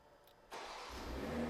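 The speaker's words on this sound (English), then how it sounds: "If you triple click the lock button, 1, 2, 3, the vehicle will start up." A 2022 BMW G42 M240i starts remotely from the key fob. A faint quiet stretch is followed by the engine turning over, and a steady low idle rumble builds, heard from nearby with no talking.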